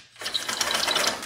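A ratcheting clamp adjustment on a WEN miter saw stand being loosened, giving a rapid run of close, crisp mechanical clicks that carries steadily through the short clip.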